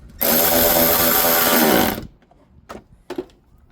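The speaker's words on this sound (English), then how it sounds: "Get our ratchet." A ratchet drives a size 10 bolt on a Jeep JT/JL headlight mount, giving a loud, dense burst of about two seconds, followed by a few short, fainter clicks as the work goes on.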